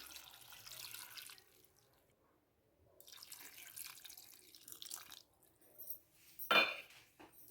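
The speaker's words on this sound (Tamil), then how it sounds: "இப்போ நாங்கள் வந்து தண்ணியை விடுவோம்" Water poured and trickling into a pot while cooking a Tamil milk curry, soft and close, with faint clinks of utensils and a brief louder splash near the end.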